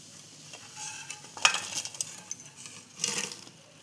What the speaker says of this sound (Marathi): आता आपले गुलाबजाम फ्राय झालेले आहेत आता आपण ह्यांना टाकूया पाकात